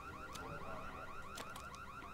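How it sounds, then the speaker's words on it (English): Car alarm in the vampire battle royale game Bloodhunt, a repeating warbling wail cycling at a steady rhythm, moderately distant, with a few sharp clicks layered over it and no speech. "Car alarm."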